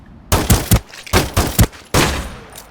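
AK-15 assault rifle fire in the online battle royale game Ring of Elysium: three loud bursts of rapid automatic shots, each several rounds long, with brief pauses between them and no talking.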